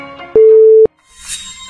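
A telephone call on a mobile phone, made during a street interview, gives one steady electronic tone lasting about half a second, loud and clean, followed by faint background noise.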